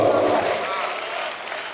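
Dense, steady clapping and cheering fill the room from an audience at a Hindi humorous poetry event in Aurangabad. It sounds close and loud, then eases slightly toward the end.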